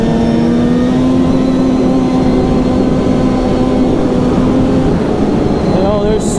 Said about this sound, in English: For a mountain crossover sled, like I'm doing 50 right now.